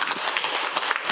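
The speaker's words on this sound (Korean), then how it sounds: "오늘 차지호 의원님을 특별히 박수로 모셔주시면 감사하겠습니다" Brief burst of audience applause at a Korean political economy lecture, dense overlapping claps from a room of people, loud and continuous.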